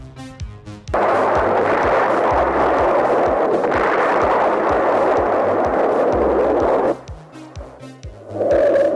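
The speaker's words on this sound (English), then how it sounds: "launched the largest bomber strike since World War II" Archival war footage of a massive bomber strike, the largest since World War II, over North Vietnam: loud, continuous rumbling blasts with dense thudding impacts for several seconds, then easing off.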